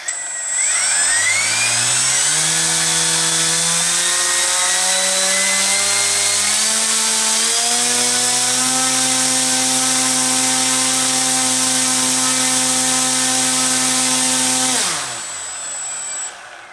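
An electric motor with a propeller winds up on a thrust-test stand, spinning up in steps to a loud, steady full-throttle whine and buzz, then spinning down near the end.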